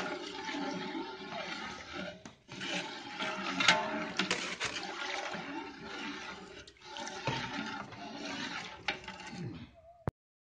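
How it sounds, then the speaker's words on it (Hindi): Water bubbles and churns steadily in a pot as it comes to the boil, then stops abruptly with a sharp click. "अभी पानी उबलना शुरू हो गया है"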